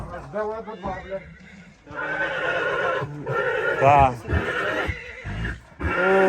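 Horses whinny a few times amid close conversation, with a high neigh rising above the voices near the middle; occasional hoof clops may sound underneath.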